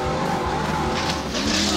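Off-road racing trucks at a Lucas Oil off-road series race in Phoenix, Arizona, a loud continuous engine roar with tire noise and a vehicle passing close by.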